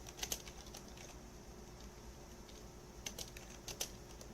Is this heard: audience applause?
no